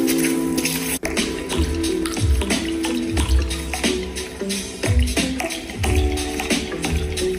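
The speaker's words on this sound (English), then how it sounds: "This ploppy sound is the glacier dripping." Glacier meltwater drips in a series of rounded, ploppy drops over a watery background, spaced unevenly but steadily, close and fairly loud, set within a musical live performance.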